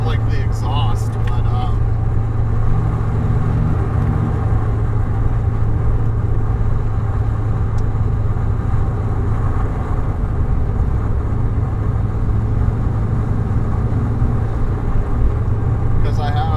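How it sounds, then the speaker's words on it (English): A steady, loud roar of wind and road noise fills a moving car's cabin through frameless doors, constant throughout with a low engine drone underneath. "I get like a pretty decent amount of wind noise in here"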